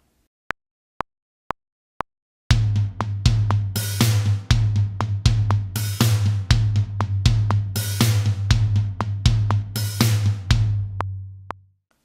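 After four count-in clicks, a close drum groove plays steady floor tom eighths with bass and snare accents, plus a bright open hi-hat splash on the and of three in each bar. It fades out at the end.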